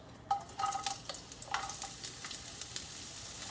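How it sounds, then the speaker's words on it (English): Onions sauté in a pan with a soft, quiet sizzle, broken by a few scraping stirs of a utensil near the start, then settling into a low steady frying hiss. "let me saute the onions first"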